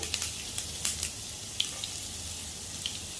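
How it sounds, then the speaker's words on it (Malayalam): Mustard seeds crackle and pop in hot oil, a sharp scattered spluttering over a low steady hiss. "കടുക് പൊട്ടി വന്നിട്ടുണ്ട്"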